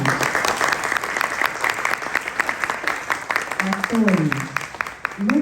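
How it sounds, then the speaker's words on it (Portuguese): A theatre audience applauds throughout a stage play, a steady spread of clapping, with a voice speaking over it near the end. "eu peço uma salva de palmas para Débora Reston e Marcelo Cavalcante."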